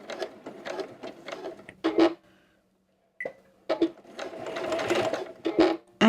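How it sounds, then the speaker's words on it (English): Sewing machine back stitching rickrack onto a kitchen towel, close rapid mechanical chattering in short bursts, broken by a brief quiet pause before resuming. "coming right up to the very edge and doing a back stitch"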